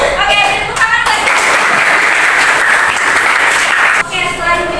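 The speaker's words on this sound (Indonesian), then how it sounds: "Oke, tepuk tangan lagi." A classroom group claps hands together in a microteaching guidance lesson, a dense, sustained burst of applause lasting several seconds, preceded and followed by a teacher's voice.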